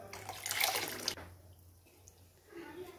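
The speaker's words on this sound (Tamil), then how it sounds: "ஒரு கிளாஸ் தண்ணி வந்து அந்த குக்கரை அலைச்சி ஒரு கிளாஸ் தண்ணி விட்டுருக்கேன்" A glass of water is poured into a pressure cooker of dal for a dhaba-style dal fry. The pour is a brief close splash lasting about a second, followed by quiet kitchen room tone.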